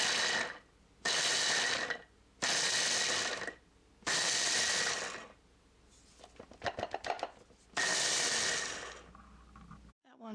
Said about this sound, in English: And then blitz it till everything is really tiny.